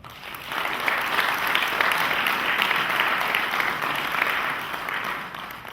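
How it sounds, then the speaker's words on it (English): An audience applauds at a high school Hall of Fame induction ceremony dinner in Ottawa. The dense, sustained clapping from many hands swells quickly, holds steady for several seconds and then begins to taper off. "Please give a round of applause to all of the above."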